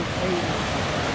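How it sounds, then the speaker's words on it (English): A stream rushes loudly on a trail, a dense steady wash of flowing water close to the microphone. "It's not a river. It's more like a stream."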